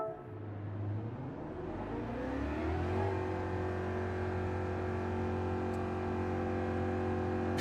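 Car engine in Gran Turismo 7, revving as gears climb, then settling into a sustained, loud, steady drone at high revs, alone without talk.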